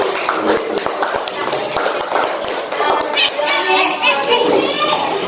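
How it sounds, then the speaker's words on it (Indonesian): Classroom applause for a student named Najwa, a loud, dense patter of children's hands clapping, with children's voices chattering throughout. "Tepuk tangan untuk Najwa"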